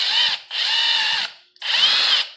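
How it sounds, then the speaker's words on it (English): A power drill bores a hole for mounting an LED puck light, running in three loud, steady bursts separated by short pauses, with no talking. "There, so we drilled that hole."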